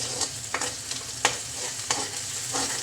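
Ginger garlic paste frying in a pan gives a steady crackling sizzle, broken by regular soft scrapes of a spoon stirring every half second or so, close and alone.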